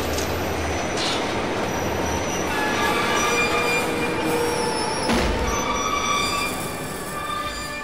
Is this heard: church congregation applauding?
no